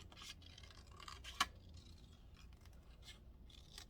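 Scissors trimming paper bunny cutouts, heard as faint close snipping and rustling paper scrapes with one sharper cut standing out.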